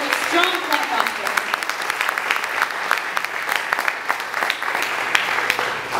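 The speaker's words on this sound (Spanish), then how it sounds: "Now give the Lord a strong clap offering." A church congregation claps enthusiastically, producing dense, sustained applause that fills the room throughout without letup.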